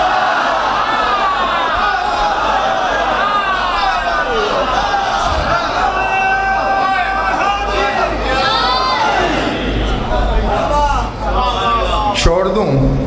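A large crowd at a religious gathering in Munara, Chakwal raises loud, overlapping chanted slogans and shouts, a dense sustained roar of many voices with rising cries near the end.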